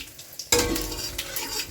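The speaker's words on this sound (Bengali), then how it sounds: "আমার কড়াইও গরম হয়ে গেছে দিয়ে দেবো থেতো করা গরম মশলা জিরে তেজপাতা" Crushed whole garam masala, cumin seeds and bay leaf hit hot oil in a kadai with a sudden loud sizzle, then keep crackling and spitting steadily while a spoon stirs against the pan, with no talk.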